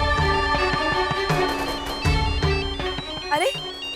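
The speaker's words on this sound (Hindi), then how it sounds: "घंटी तो यही बज रही है" A phone ringtone plays a bright electronic melody, with a person talking over it briefly near the end.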